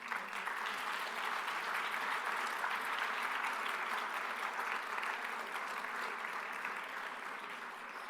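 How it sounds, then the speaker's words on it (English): Audience clapping at the Conrad Spirit of Innovation Challenge 2017 awards ceremony: a steady, even round of applause from a seated crowd that goes on for about eight seconds, heard from a distance and fairly soft. "So try not to clap so loud"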